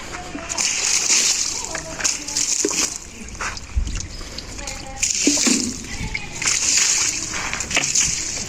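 Buckets of water are poured over someone during a bath at home, giving repeated splashing and sloshing bursts up close while people talk throughout.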